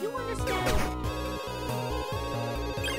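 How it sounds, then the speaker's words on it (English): A telephone rings in the video game Pixel Ripped 1995, a busy electronic ringing layered over game music with repeating beeping tones, loud and close. "Okay, so the phone's ringing."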